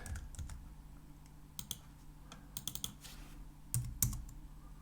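Computer keyboard bracket keys clicked repeatedly while adjusting a brush in Affinity Photo 2, a series of quiet, close, crisp taps in uneven bursts over faint background hum.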